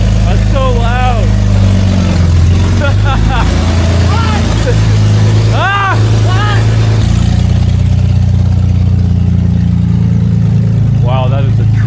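BMW E46 with newly installed headers, its engine droning loud and steady under excited talk and laughter from people nearby throughout.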